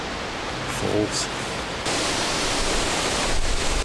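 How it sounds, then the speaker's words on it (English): A waterfall's roar fills the clip as steady broadband rushing noise, loud and continuous, swelling slightly partway through; a brief faint tonal sound appears early on. "Because of the sheer noise of the waterfall"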